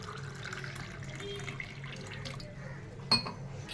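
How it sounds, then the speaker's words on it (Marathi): Water poured into a glass holding a few spoonfuls of raw mango panna concentrate, a soft steady trickle with a brief louder splash or clink near the end. "त्यानंतर पाणी घालून घेते"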